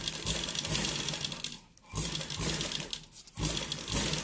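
A sewing machine slowly stitches a round collar neckline in short bursts of rapid needle chatter, broken by two brief pauses, close and clear.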